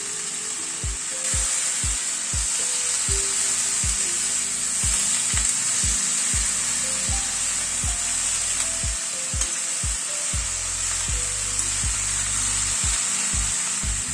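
Bottle gourd greens and stalks cooking in a hot pan make a loud, continuous sizzle, punctuated by repeated sharp scraping knocks from stirring. There is no talking.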